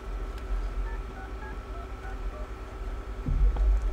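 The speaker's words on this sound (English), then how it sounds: "make a f oh, phone call" Phone dialing tones while placing a call in the Deadpool video game, a series of faint short beeps over a low steady hum, with a louder thump near the end.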